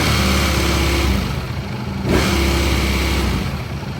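2025 Ducati Panigale V4 held in neutral, its engine revved up and down and capped near 4,000 rpm during break-in, with a loud steady drone that dips briefly midway before climbing again.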